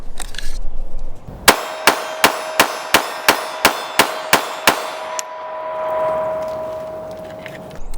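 Pistol magazines for a Sig P365 in .380 ACP being loaded with a magazine loader, a run of about ten sharp, evenly spaced metallic clicks, followed by a faint ringing tone and a quiet pause.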